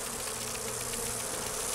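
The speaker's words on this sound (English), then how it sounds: "Bees?" Bees buzz in Dragon Age Inquisition's Trespasser, a soft, steady insect drone holding evenly at low volume for the whole short moment with no talking.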